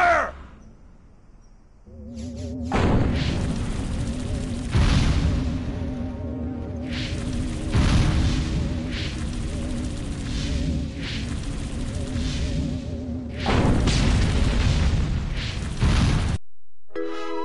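Loud bursts of gunfire and booming explosions from the alien invasion game Destroy All Humans!, a dense, sustained barrage with repeated sharp blasts and a few brief pauses.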